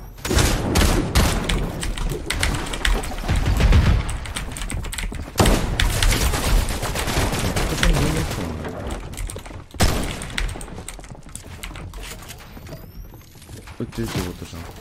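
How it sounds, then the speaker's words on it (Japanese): Repeated video-game gunfire bursts in a duo match with a hired NPC, sharp volleys and booms recurring across the stretch, with players talking over the shots. "撃ってるってことじゃん。"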